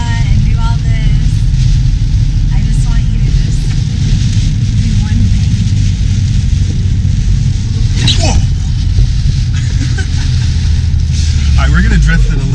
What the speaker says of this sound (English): We're gonna drift it a little bit right here.